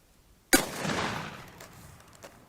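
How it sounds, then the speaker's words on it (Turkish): A single shot from an over-under shotgun at a test firing: one sharp, loud blast followed by a long fading rumble and echo outdoors, with faint clicks afterward. "bir tek kurşun, bir saçma, bir tane de tek kurşun atıyoruz ve bir sefer atış yapacağız"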